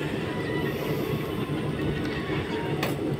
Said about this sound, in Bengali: জাস্ট দেখো কত বড় train, Kanchenjunga express, train number 13-174। সামনেও কার্ভ নিচ্ছে